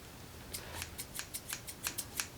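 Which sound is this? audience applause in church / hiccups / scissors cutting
scissors cutting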